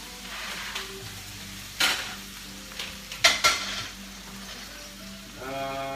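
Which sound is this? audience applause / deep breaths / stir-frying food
stir-frying food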